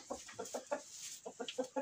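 Chickens clucking inside a henhouse in winter, a series of short rhythmic clucks in two bursts, close and fairly quiet, with no talking.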